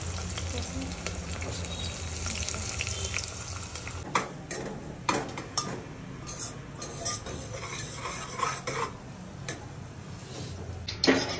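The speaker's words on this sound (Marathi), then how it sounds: "अरे असं कांदा टाकतोयस तू, असंच हळूहळू भाजायचं रे, एकदम स्लोली." Onions frying slowly in a pan, a steady close sizzle running throughout, with occasional utensil scrapes and clinks against the pan from stirring.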